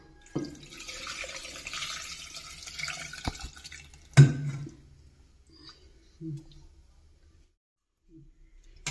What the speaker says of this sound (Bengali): পরিমাণ মতো জল সেটা এবারে দিয়ে দেবো।